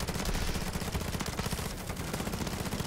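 Relentless rapid-fire shooting from guns and automated turrets in a zombies video game, a dense, loud stream of pulsing shots with no pause across the whole short stretch.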